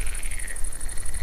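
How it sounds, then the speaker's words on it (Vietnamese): Frogs croak in a video game night scene, a continuous rapid pulsing chorus with a steady rhythm, moderately loud and heard alone without talk. "Tôi nghe thấy tiếng ếch kêu."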